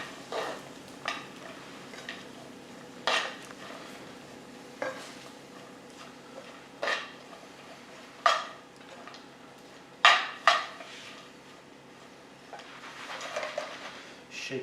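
Cooked rice is shaken and tossed in a warm pan with chili, coriander and peanut, giving soft scraping with sharp scattered clinks of pan and utensil at irregular intervals, close and fairly quiet.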